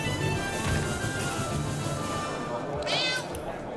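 A cat meows in the Divinity: Original Sin role-playing game, a short clear meow near the end over quiet background music.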